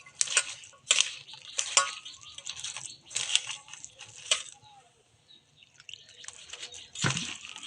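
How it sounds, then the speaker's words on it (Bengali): Dry ingredients worked by hand into a dough with small splashes of water, giving intermittent close, wet squelching and scraping bursts separated by brief quieter pauses, with no talking. "আমি অল্প অল্প জল দিয়ে এটা মেখে নিচ্ছি"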